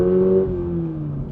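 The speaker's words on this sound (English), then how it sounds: "They are pumping in fake noise here. There's absolutely some augmented" A 2026 Toyota GR86 Yuzu Edition engine, with augmented sound piped through the cabin speakers, gives a loud, close tonal drone whose pitch falls smoothly as the revs drop over about a second.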